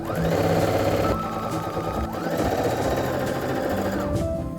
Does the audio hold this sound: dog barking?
no